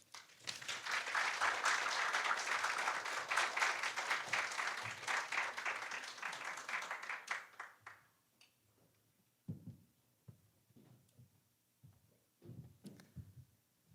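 An audience in a lecture hall claps in welcome, a full sustained round of applause for about eight seconds that fades into a few scattered claps and soft room noise.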